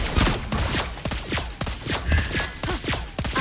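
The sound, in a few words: turret under attack and destroyed in Mobile Legends video game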